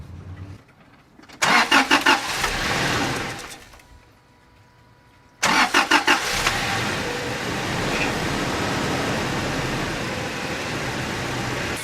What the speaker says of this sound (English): gonna start my truck and see if everything works